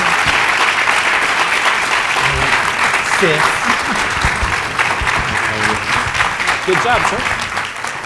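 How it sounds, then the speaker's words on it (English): Sustained applause from a conference audience on voting rights closes a panel, an even wash of clapping with a brief spoken remark heard close by partway through. "So please give them a good round of applause."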